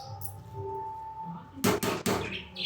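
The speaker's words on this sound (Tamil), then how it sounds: "இப்போ நம்ம மூடி போட்டு வேக வச்சிடலாம்." A metal lid goes onto a pot of chicken biryani to seal it for dum, heard as two or three sharp close clanks in quick succession after a quieter stretch of low kitchen hum.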